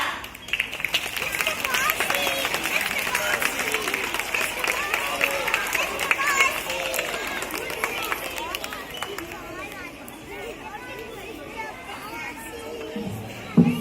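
Audience applause at a school assembly for a Grade 4 Dussehra presentation: steady, dense clapping fills the hall for over ten seconds, mixed with crowd chatter and children's voices.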